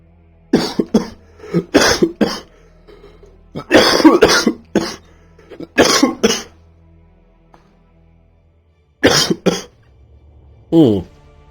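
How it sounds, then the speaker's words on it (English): A person with a cold coughs in close, harsh bursts, several separate fits spread across the stretch with quiet gaps between them, plus some throat clearing. "Yes, cough, cough, cough."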